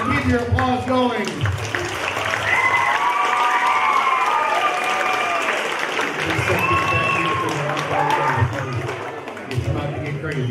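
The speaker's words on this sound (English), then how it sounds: "keep your applause going" A theatre audience at a Christmas show claps and cheers in a sustained burst of applause, dense crowd noise holding steady with voices mixed in.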